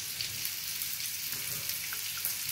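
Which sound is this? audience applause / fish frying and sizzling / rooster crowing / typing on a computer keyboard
fish frying and sizzling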